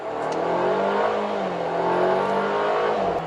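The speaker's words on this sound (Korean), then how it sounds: "바뀌면서 조금 엔진 사운드가 조금 바뀌는 듯한 느낌이 드는 것 같아요." A Mercedes-Benz GLB 250 4MATIC engine revs in sport mode with a rising and falling growl, loud and close, holding a steady, sporty tone throughout without any voices.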